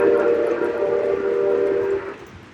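A steam train whistle on a model railway layout blows one long, loud, steady blast that lasts about two seconds, then cuts off abruptly and leaves only faint room noise behind.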